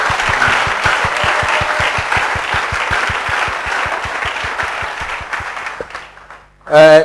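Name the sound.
congregation applauding for the pastor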